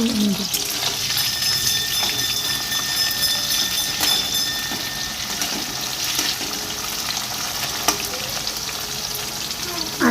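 Oil sizzles steadily in a pan as potatoes fry for Bengali jute-leaf fritters, a dense continuous crackle with scattered stirring clinks and a few sharper pops, close and fairly loud throughout.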